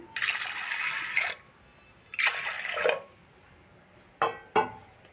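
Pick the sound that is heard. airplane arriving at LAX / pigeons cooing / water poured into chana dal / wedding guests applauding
water poured into chana dal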